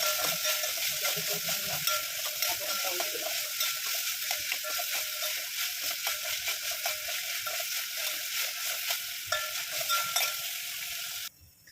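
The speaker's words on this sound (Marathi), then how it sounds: "चांगलं व्यवस्थित परतून घेऊया" Long-podded cowpea (vali) sautéing in a pan with salt added, giving a dense, bright, continuous sizzle close by with faint stirring scrapes throughout, cutting off abruptly at the end; no one speaks.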